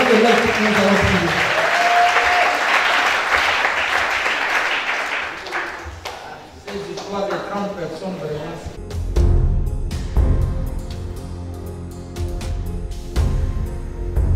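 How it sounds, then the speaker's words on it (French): Loud applause and cheering from a church congregation, sustained for several seconds and then thinning into scattered claps as organ or keyboard music comes in beneath. "Acclamons très fort pour le Seigneur"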